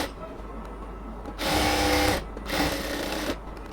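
A sewing machine stitches a strip onto a salwar in two short, close bursts of whirring, each lasting under a second, separated by a brief pause, with quiet room noise between.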